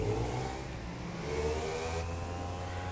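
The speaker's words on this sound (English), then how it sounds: "Oh, the sound of that bike engine is so pleasant, Jonathan" Motorbike engine revving in the GTA 5 video game, a steady loud mechanical drone with rising and falling pitch, heard alone.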